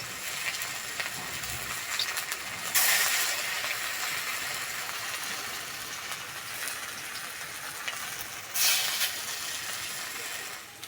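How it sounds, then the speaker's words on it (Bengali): Raw papaya fritters fry in hot oil with a steady, close sizzling hiss, rising briefly in two louder bursts as more batter goes in. "সবগুলো এইভাবেই ভেজে নেব"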